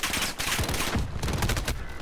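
Rapid bursts of gunfire in a 2v2 video game match, loud and dense with overlapping shots throughout, no talk over them.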